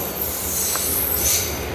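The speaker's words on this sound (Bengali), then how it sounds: "11:19 ট্রেনও চলে এসছে।" A local train pulling into a station, a short burst of steady rolling rumble with a faint wheel squeal and no voices.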